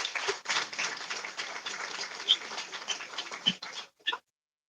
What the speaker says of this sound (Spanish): les damos un aplauso primero al profesor Gabriel